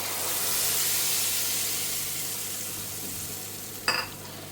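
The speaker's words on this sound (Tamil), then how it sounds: "தாளிப்புகள்லாம் நல்லா பொரிஞ்செடுத்து பருப்பு செவந்தெடுத்து" Tempering spices and dal fry in hot oil with asafoetida and curry leaves, making a dense, even sizzling hiss close up, broken by one brief clink near the end.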